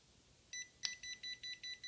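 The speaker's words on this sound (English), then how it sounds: "you'll notice it's beeping because it's within that radius" A My Pet Command MPC150 indoor pet barrier collar gives a short electronic beep once, then a quick series of evenly spaced high-pitched beeps repeats, clear and close in a quiet room.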